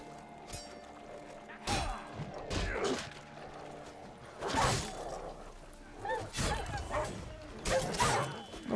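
Dogs in the video game The Witcher 3: Blood and Wine, several sharp barks and yips in bursts amid combat clatter, with someone talking over them at moderate volume.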